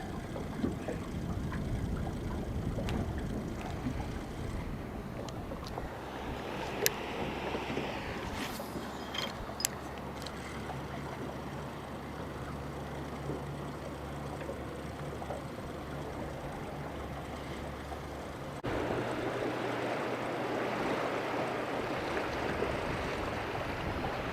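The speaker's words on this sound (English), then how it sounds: "we got a strong north wind today" Strong northeast wind blowing across open water from a small fishing boat, a steady broadband rush and buffeting with water lapping, continuous and close throughout, a low engine-like drone underneath, no talking.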